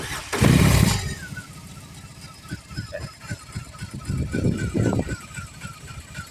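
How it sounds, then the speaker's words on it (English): A BMW R18 Transcontinental with its 1800 cc, 110 cubic inch boxer engine starts with a loud initial burst, then settles into a close, lumpy, uneven idle with rhythmic pulses. "you have to pull in the clutch no matter what to start it because of the torque of this engine"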